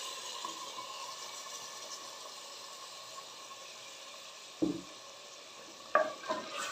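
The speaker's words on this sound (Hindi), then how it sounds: "अब हम इसके अंदर ऐड करेंगे प्यूरी जो हमने प्याज टमाटर और लहसुन की तैयार की है" Low steady sizzling of chicken frying in a pan, with a couple of louder wet splattering bursts as an onion, tomato and garlic puree is added and stirred in, fairly quiet overall.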